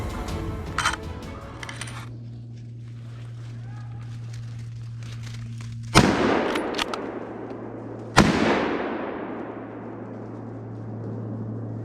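Two sharp, loud rifle reports crack a couple of seconds apart during a wild boar driven hunt, each followed by a long rumbling decay, over a steady low hum and faint distant voices.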